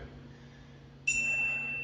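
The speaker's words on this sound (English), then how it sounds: "There's the bell." A bell marks the end of a home workout interval of 300 pushups: a single clear, high ding rings out and holds steady over a low background hum, fading slowly, with no talking.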